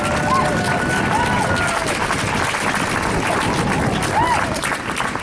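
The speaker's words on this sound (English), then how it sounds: "give them a nice warm welcome and a round of applause" A crowd at a rally against white supremacy applauds in a dense, continuous wash of clapping that stays loud and steady throughout, with scattered cheers rising above it.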